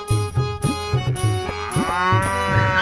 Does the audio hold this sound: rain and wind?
no